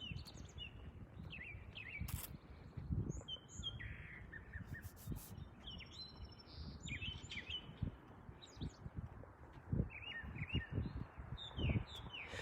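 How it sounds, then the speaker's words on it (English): Several birds chirp and tweet outdoors in quick, scattered calls, fairly distant and soft, with faint rustling and low background noise. "Oh, listen to these birds singing."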